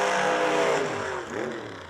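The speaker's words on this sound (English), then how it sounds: "Scott Weiss just drove through some violent tire shake" A drag racing car at the Yellow Bullet Nationals drives through violent tire shake, its loud engine roaring and wavering with a shuddering, uneven pitch that briefly surges before fading.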